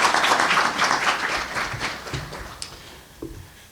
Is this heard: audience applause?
yes